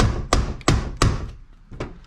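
A chisel knocks out the wooden stop strip on a window sash during a replacement window install: four sharp taps, three in quick even succession and a fourth after a short pause, close and fairly loud.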